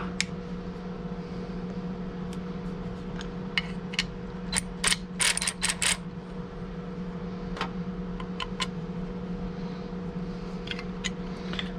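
A ratchet wrench tightens bolts, giving bursts of rapid clicking pawl ticks over a steady mechanical hum, with the densest run of clicks in the middle.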